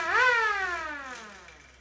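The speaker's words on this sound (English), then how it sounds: "the siren works too." A siren fitted to a custom mini bike gives one short rising wail that peaks quickly, then slides down and fades, moderately loud and with no voices.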